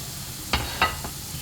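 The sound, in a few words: frying cabbage for chicken samosa filling in a pan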